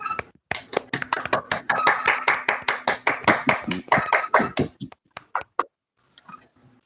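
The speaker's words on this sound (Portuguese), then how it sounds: "Uma salva de palmas aí para o Lorenzo" A small group claps for Lorenzo at a carriage-drivers' support program event, distinct close hand claps in a steady rhythm for about five seconds, then a few scattered claps trailing off.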